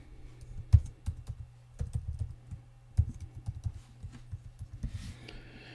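Someone types a password into a Windows 10 computer on a keyboard. The keystrokes come in quick, uneven bursts, close and clear, with short pauses between them and no talking.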